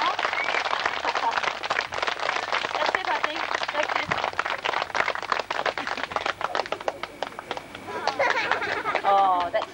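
Dense, continuous clapping from a crowd gathered for a flag raising at the start of a Humphrey Pump restoration, with voices talking over it and steady loud applause lasting throughout.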